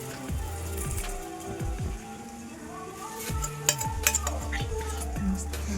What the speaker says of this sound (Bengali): এবার গ্রেভিতে সরষে বাটার জলটা দিয়ে দেব।